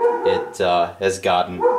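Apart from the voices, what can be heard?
dog barking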